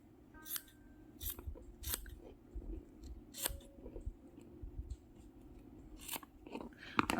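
Scissors snip extra thread off a fabric journal in a quiet room, making a series of close, crisp cuts, some in quick pairs and others spaced apart, with faint handling rustle between them.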